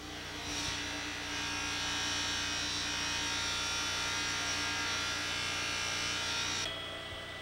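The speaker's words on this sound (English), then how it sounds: "Aluminum buffs out quickly and will load the wheel fast." A buffing wheel polishes aluminum with compound, producing a steady, loud motor hum and whirring buzz that holds evenly for several seconds before easing off.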